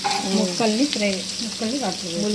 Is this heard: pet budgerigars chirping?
no